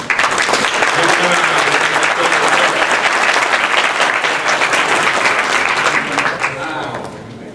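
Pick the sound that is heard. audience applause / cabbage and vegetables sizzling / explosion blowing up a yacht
audience applause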